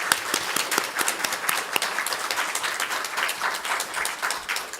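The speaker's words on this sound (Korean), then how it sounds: "힘차게 박수로 우리 한번 환영해 주시겠습니다." Energetic, steady applause fills a church sanctuary during a Sunday worship service, dense and continuous clapping from the congregation welcoming a visiting pastor, with no talking over it.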